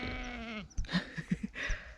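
A sheep bleats loudly and close by, a long wavering call followed by a few shorter grunting bleats.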